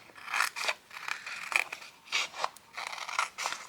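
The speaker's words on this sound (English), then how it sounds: "There's my scissors" Scissors snip several times in quick, crisp cuts, close by and fairly quiet, with short pauses between each pair of blade strokes.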